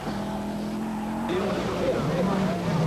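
An Audi Quattro 80 Group A rally car races along a stage of the 1985 Hellendoorn rally, its engine droning and shifting pitch up close, with a commentator talking over it.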